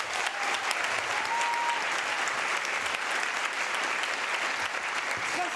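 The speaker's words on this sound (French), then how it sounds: "On peut applaudir Beethoven, évidemment." An audience at an improv theatre festival gives sustained applause, heard as dense, steady clapping from a crowd with faint whoops and a murmur of voices underneath.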